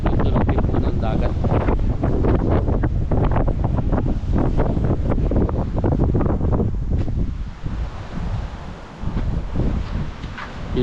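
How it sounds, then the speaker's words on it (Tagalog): Steady roaring wind buffets the microphone with a constant rush, while the wash of sea surf rolls beneath it at a Philippine beach, easing slightly near the end. "tunog din po ng dagat."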